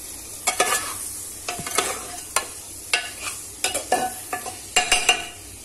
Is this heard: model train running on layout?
no